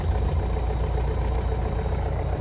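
A Piper PA28 light aircraft engine idles just after start, at roughly 800 to 900 rpm, with a steady, even, close-up low drone and no talking over it.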